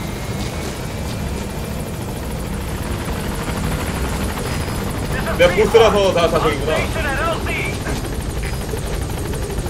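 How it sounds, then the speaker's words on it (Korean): A helicopter arrives at a landing zone in Metal Gear Solid 5: The Phantom Pain, its steady rotor drone loud and continuous, swelling briefly midway, while someone talks over it. "헬기까지 올 수 있다니"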